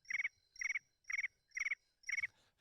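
Crickets chirp in five evenly spaced bursts about half a second apart, each a quick trill of high pulses, soft and isolated against near silence.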